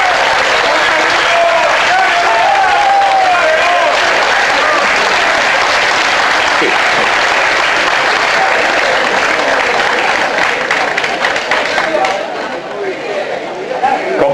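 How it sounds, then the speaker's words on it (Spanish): An audience at a political movement's anniversary event bursts into loud, sustained applause with crowd chatter mixed in, continuous for over ten seconds before thinning out at the end. "Fuerte el aplauso."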